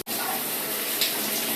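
Water gushes steadily from a shower head fitted with a hard-water filter, flushed through on first use; a loud, continuous broadband hiss with no talk.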